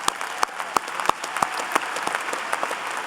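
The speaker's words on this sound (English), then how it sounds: "How about a round of applause for engineers?" A commencement crowd at a UCLA engineering ceremony claps for engineers, a sustained patter of many hands with a few sharp, prominent claps standing out near the microphone, moderately loud and steady throughout.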